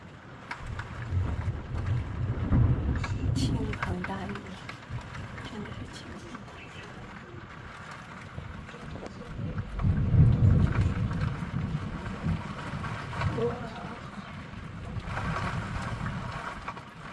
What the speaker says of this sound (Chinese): 哇，下大雨了！